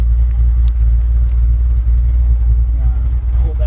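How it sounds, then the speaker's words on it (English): A 1964 Chevrolet C10 pickup with a mild cam and a throaty exhaust idles close by, a loud, steady low rumble that holds throughout without revving. "It's got a nice engine, little cam in it, great sounding exhaust."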